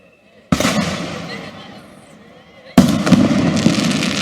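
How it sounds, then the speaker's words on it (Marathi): Firecrackers erupt at a political rally in two loud bursts, a sudden crackling barrage that fades, then a second sharp onset of rapid popping that continues to the end, with crowd noise beneath. "तुमचे फटाके बंद करा रे"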